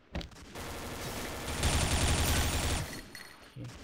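Automatic gunfire in the online shooter XSHOT, a dense continuous burst of rapid shots that swells loud in the middle and then tails off, with nobody speaking.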